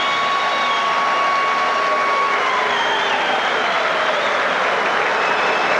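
A hockey arena crowd in the NHL 92-93 video game cheers and applauds with a steady, dense roar that stays loud and unbroken for several seconds.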